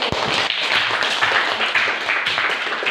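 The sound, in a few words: people clapping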